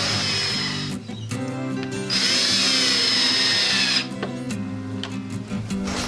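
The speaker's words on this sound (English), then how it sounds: "I use my drill to run them in through the back of the" A power drill whirs in short bursts, then runs in one long, steady spin before easing off, driving threaded inserts into a CNC wasteboard, close and loud, with no talking.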